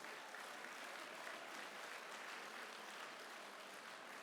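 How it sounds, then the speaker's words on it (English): A crowd at an awards and auction event applauds steadily, a dense wash of clapping that stays even throughout, heard from some distance. "Give them a big round of applause."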